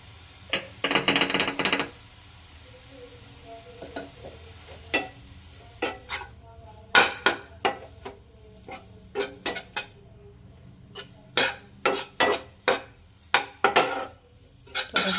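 Raw chicken momo filling seasoned with salt and turmeric is stirred by hand in a bowl. A spoon clinks and taps in a quick, irregular run over about fifteen seconds, with a short rustling scrape near the start, close and without talk.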